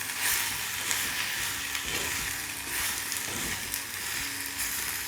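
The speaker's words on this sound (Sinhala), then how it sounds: "දැන් අපි මේ ටිකත් හොඳට කවලම් කරගමු" Kohila leaf curry being stirred in a pan, a steady close sizzle of frying with a few soft scraping strokes of a spoon, no voices.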